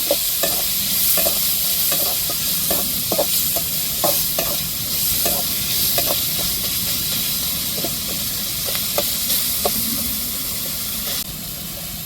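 Tomato and chili stirred into onion and garlic in a pan, a constant close sizzle and hiss with regular spoon scrapes and clinks roughly every half second, no voices.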